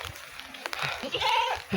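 Goats bleat nearby, several wavering, nasal calls overlapping one another over a couple of seconds, with rustling and faint human voices in the background.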